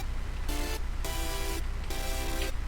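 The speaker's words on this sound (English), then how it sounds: "which is basically the most basic future bass chord ever" A plain future bass synth chord built from saw waves with harmonics, unprocessed, played as three sustained stabs with short gaps between them, steady and fairly loud with no voices.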